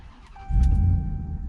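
2021 Ram 1500 TRX, a 700-horsepower pickup truck, starting up: a short cranking catch, then a sudden loud, deep engine roar that eases into a rumbling idle, close by and with no talking.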